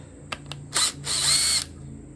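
A power tool spins off 13 mm bolts on a Jaguar independent front suspension, close and loud: two brief clicks, then a short whirring burst followed by a longer whine that stops abruptly.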